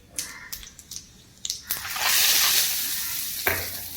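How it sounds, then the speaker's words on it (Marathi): Cumin tempering hits hot oil in a home kitchen, a few sharp clinks and taps followed by a sudden loud hiss of sizzling that lingers and slowly fades, then another clatter. "आता इथे तेल गरम करते. तडका मारूया."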